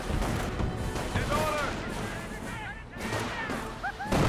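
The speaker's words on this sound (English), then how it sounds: "Good mortar hit there onto the rifleman" Explosions from a mortar shell striking a rifleman infantry squad in Company of Heroes, dense booming impacts and crackling gunfire mixed with short game voice calls and whistling tones throughout.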